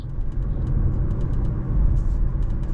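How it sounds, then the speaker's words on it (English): Steady, low cabin rumble of a 2023 Kia Niro SX front-wheel-drive hybrid driving on the road, with continuous road and tyre noise and faint light ticks on top. "we are on the road in this 2023 Niro SX"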